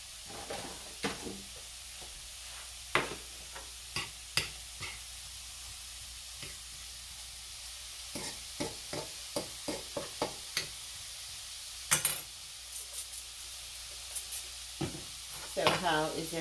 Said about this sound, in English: that's the shrimp cooking